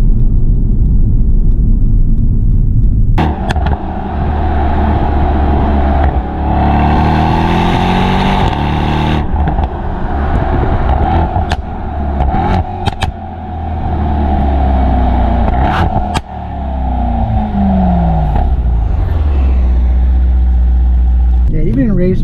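A 2018 Mercedes-AMG E63 S Wagon drives in comfort mode with the exhaust flaps closed, its engine a low, steady hum that rises and falls with a few revs, while someone talks over it throughout.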